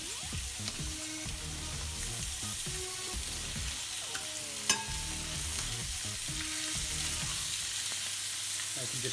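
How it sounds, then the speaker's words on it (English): Chicken pieces sizzle steadily in a griddle and a frying pan, a continuous close crackling fry with occasional stirring and utensil clinks and one sharp knock partway through. "I'm going to do a couple in the griddle, and I'm going to do others in the frying pan"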